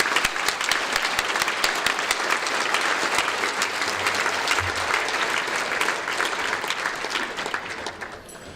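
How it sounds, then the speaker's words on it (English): A banquet audience gives a sustained round of applause for the volunteers at a barbershop music banquet, steady dense clapping from many hands that carries on evenly and fades slightly at the end. "join me in thanking the Middle Creek volunteers with a round of applause"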